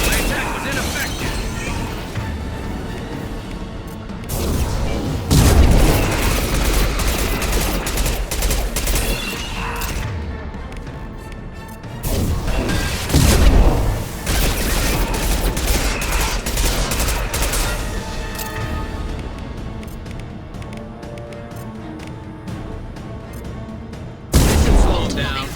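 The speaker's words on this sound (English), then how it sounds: "Firing a high-impact shot." A battle in the video game Mass Effect 2 with dense, loud bursts of gunfire, heavy booms and impacts, rising and falling in waves, while voices speak over the combat.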